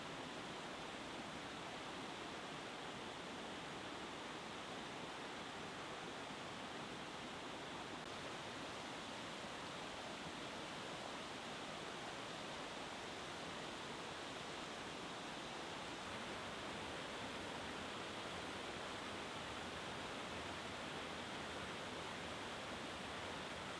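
Mill Gill Force waterfall near Askrigg pours steadily, a dense, continuous broadband rush of flowing water that stays even and unbroken throughout, with no voices.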